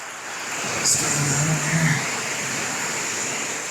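Water washes and rushes around a roadside culvert outdoors on a chilly day, a steady close wash with a brief louder surge partway through.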